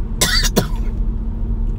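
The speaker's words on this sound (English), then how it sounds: "Now I'm coughing." A person gives two quick, harsh coughs close to the microphone, followed by quiet background hum.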